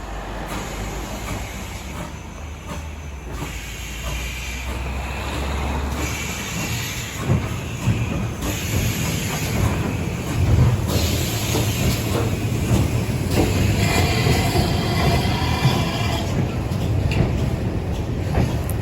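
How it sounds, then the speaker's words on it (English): A steam train rumbles steadily across a bridge for a long stretch on the Severn Valley Railway, wheels clattering over the rails with a continuous mechanical roar, fairly close and loud. "Who doesn't love a train going over a bridge?"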